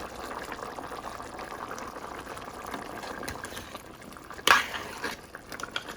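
Beef stew bubbles in a pot, simmering in its own juices with oil and no added water, a steady soft bubbling hiss that stays quiet except for one brief louder clink or splash near the end.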